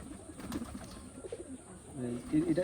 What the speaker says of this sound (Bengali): এটা হচ্ছে একটা ইন্ডিয়ান, একেবারে পিওর ইন্ডিয়ান একটা কবুতর